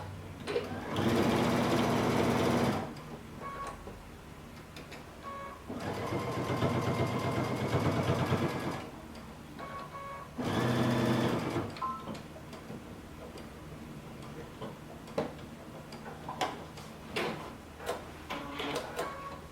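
Sewing machine stitching a fabric edge closed on a tunic, three bursts of steady whirring of a few seconds each, separated by quiet pauses with light ticks and handling.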